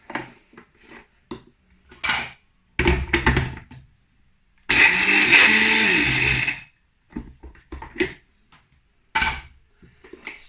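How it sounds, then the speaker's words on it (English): An electric spice grinder milling cardamom pods makes one loud, steady motor whir lasting about two seconds. Scattered clinks and handling knocks come before and after it. "I'm gonna grind it just a little bit so that these pods open up"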